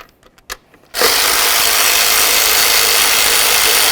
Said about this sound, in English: Now let's remove the upper bolts.